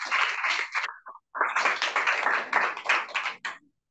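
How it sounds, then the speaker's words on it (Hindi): An audience clapping at a church service after a bilingual English–Urdu sermon: close, bursty rhythmic claps in two sharp rounds separated by a brief pause, then a quick cutoff. "जोरदार तालियां बजाएंगे"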